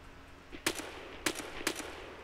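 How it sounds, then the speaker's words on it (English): Bursts of gunfire from a scavenger in a video game: three sharp cracks at a steady distance, each with a short ringing tail, over a low ambient rumble. "He's getting shot by a scavenger"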